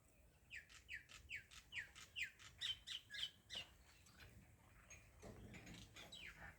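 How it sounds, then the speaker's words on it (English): Birds call outdoors in a run of about a dozen sharp, evenly spaced squawks that rise and fall in loudness, then give way to a softer background hiss. "The birds singing."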